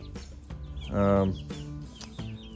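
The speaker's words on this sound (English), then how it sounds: "show you the chicks now that they're growing a little bit older." Young baby chicks in a simple brooder, a few short nearby peeps and chirps over a low background hum.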